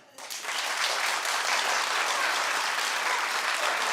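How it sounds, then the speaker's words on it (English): A studio audience claps together in steady applause, rising quickly after a brief quieter start and then continuing as a full, even wall of clapping to the end. "clap if he shouldn't."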